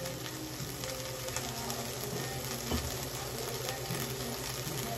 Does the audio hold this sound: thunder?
no